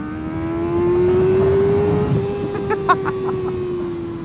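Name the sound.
sport motorcycle engine revving during ride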